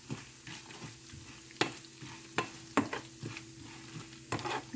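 Chana dal and dried red chillies fry in hot oil for an Andhra-style tomato pickle, giving a steady close sizzle broken by sharp scraping stirs and clinks of a spoon against the pan.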